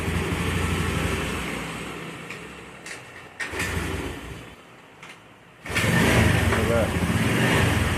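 A scooter is kick-started and its engine runs with a steady mechanical drone that dips quieter midway, then catches and roars up loudly near the end; someone talks over the engine noise.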